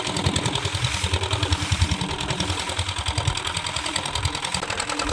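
A small boat's engine in the Sundarbans chugs at an even, rapid pulse, close and steady throughout with no voices over it.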